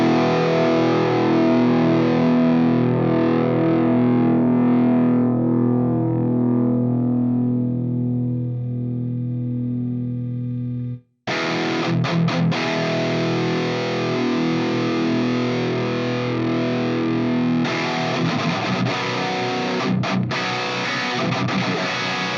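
A heavily distorted electric guitar played through an Axe FX III Triaxis patch and a Friedman cab rings out in loud sustained chords, then cuts off briefly before a new chugging, driven riff starts.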